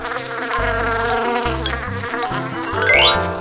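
A steady buzzing bee drones through the whole stretch, blended with a cheerful melodic backing tune.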